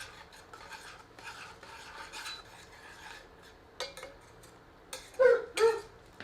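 A crab leg paste is stirred in a pan over high heat, giving soft repeated scraping and rubbing strokes. Louder scrapes come toward the end, and nobody speaks.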